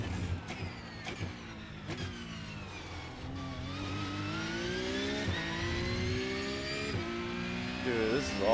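Race car engine in the iRacing sim game, a droning engine whose pitch climbs steadily through the gears with brief shift breaks, a voice talking over it now and then.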